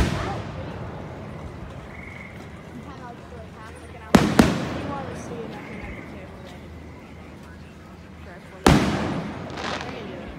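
Fireworks burst in two sharp, loud booms a few seconds apart, each trailing off into crackle, over a steady outdoor background with people talking quietly.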